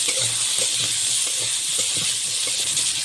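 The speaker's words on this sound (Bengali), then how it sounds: "লবণ দিয়ে একটু ভেজে নেবো হালকা করে" Potatoes frying lightly with salt in a pan: a continuous, fairly loud hissing sizzle with faint stirring knocks underneath.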